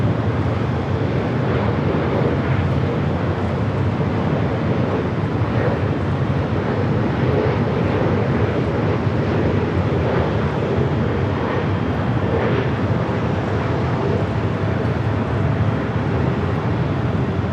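A passenger airliner taxis along a runway at Los Angeles International Airport, its engines giving off a steady, broad roar that holds even and continuous throughout, with gusts of wind buffeting the microphone.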